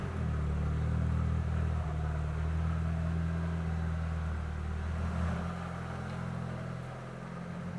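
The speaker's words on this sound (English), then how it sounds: "we're going to pull the car out now and then take it for its first test drive" A budget-build Mk2 car on sleeve-over coilovers idles and moves off for its first test drive, its engine a steady, close, low rumble with a slight drop in pitch and level near the end.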